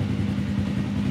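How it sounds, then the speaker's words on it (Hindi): A 70cc motorcycle engine with its exhaust packed with soap, throttled as a loud, close, steady low drone with no clear rise in revs. "एक सेकंड आपको मैं थ्रॉटल करके दिखाता हूँ।"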